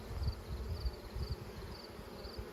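Honey bees hum around a thriving backyard hive, a soft, continuous low drone with faint fluctuating buzzes and no voices.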